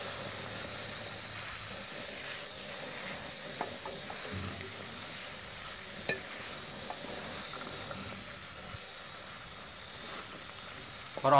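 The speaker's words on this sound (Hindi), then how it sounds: "अभी हम भिंडी को अच्छी तरह मसाले के अंदर मिक्स कर लेंगे।" Okra (bhindi) frying with masala in a pot gives a steady low sizzle while being stirred, with scattered scrapes and knocks of the spoon throughout and no talking.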